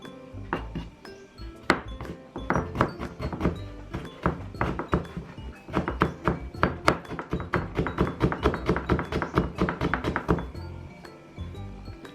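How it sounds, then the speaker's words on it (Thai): A knife chops stacked thin slices of carrot into fine shreds on a cutting board, making a rapid, uneven run of close, crisp thunks that continues steadily throughout, with no talking. "หั่นฝอยๆ"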